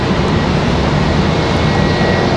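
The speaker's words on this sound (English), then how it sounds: "Here comes JetBlue down the hill from, this one's supposed to be going to JFK finally" A JetBlue airliner taxis at Raleigh Durham International Airport, giving a steady, dense engine rumble and broadband roar, close and continuous throughout with no talk.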